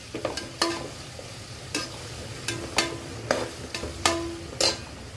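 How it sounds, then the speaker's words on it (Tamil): Onions sautéing in a pan for a home-cooked vegetable biryani, with a low steady sizzle under repeated sharp scrapes and clinks of a spoon stirring about every half second. "ஸோ இந்த வெங்காயம் வதங்கணும்"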